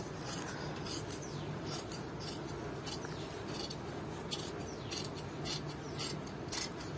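Scissors cutting through blouse fabric, a steady series of close, soft rasping snips repeating with a light rhythm, alone without talk.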